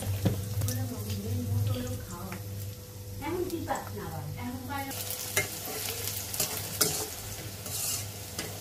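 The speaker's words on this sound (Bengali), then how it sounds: "পেঁয়াজটা ভাজবো" Onions fry in oil in a pan, a steady sizzle with a spoon stirring and scraping at intervals, heard up close while a person talks over it.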